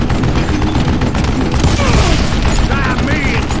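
Chaotic gunfire from the Western shooter Call of Juarez: Gunslinger, a dense continuous barrage of shots and booms under loud game noise, with no clear pauses.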